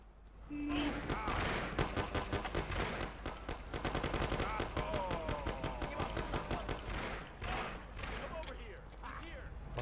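Bursts of machine-gun and pistol fire ring out in a shootout in the video game Mafia, rapid and dense for most of the stretch, with voices talking over the shooting.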